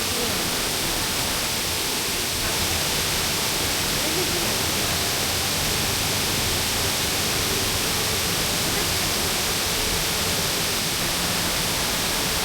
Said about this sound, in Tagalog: Parang malakas yung tubig.